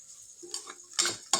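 A spoon stirs spices into a jackfruit side dish in a pan, with a few scraping clinks of metal against the pan and two sharp knocks near the end, and a faint sizzle underneath. Nobody talks.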